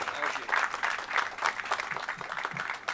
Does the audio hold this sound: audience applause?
yes